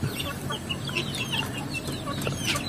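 Native chickens and chicks cluck and cheep continuously on a farm, a busy flock heard up close with overlapping high peeps and lower clucks and no talk.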